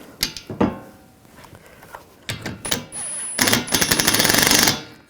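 Metallic clicks and ratcheting from a wrench snugging down a bolt on a bracket during AC condenser replacement on a 2004-2012 Chevrolet Colorado 3.7L, a few short clicks followed by a steady rapid ratchet run, close and fairly loud.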